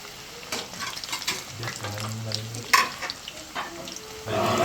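Fish frying in very hot oil, a close crackling sizzle with scattered pops and some stirring clatter, growing louder toward the end.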